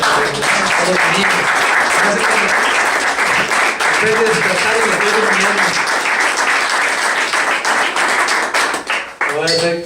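A church congregation claps for the Lord during a sermon, steady loud applause running throughout with a voice speaking over it.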